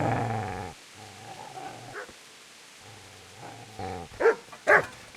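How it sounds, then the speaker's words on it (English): A dog in the video game Kingdom Come barks and growls, with a sustained snarl at the start, then a low growl and a few sharp, loud barks near the end, with no speech. "Get away, you mutt!"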